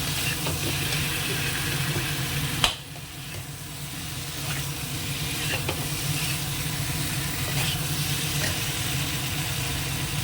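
Potato and pointed gourd frying in a pan with cooked-down spice paste, a continuous close sizzle with light stirring scrapes and one sharp clank early on.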